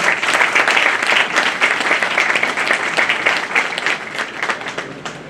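Sustained, loud audience applause for Faizi Sahab at a Bar Council of Delhi enrolment meeting, dense steady clapping filling the hall for several seconds without a break.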